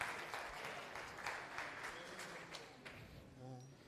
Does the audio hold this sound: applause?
yes